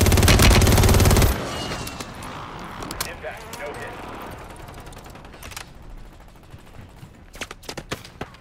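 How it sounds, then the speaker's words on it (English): Rapid automatic gunfire rattles loudly in the Warzone video game, a dense burst at the start, followed by scattered shots and clicks while players talk over the action. "Oh, I'm getting shot from behind."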